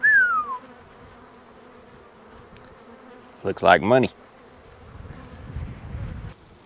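Honey bees buzz faintly around hive boxes set out in a cotton field, a low steady hum under outdoor wind, with a short spoken remark in the middle.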